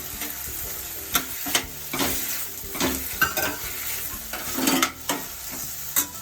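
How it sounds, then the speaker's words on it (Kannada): Potatoes and chopped green beans fry in a pan for an avalakki bisibele bath, a continuous sizzle broken by repeated sharp clicks and scrapes of a spoon stirring against the pan. "ಈಗ ಹೆಚ್ಕೊಂಡಿರೋ ಹುರುಳಿಕಾಯಿ ಹಾಕ್ತಾ ಇದ್ದೀನಿ."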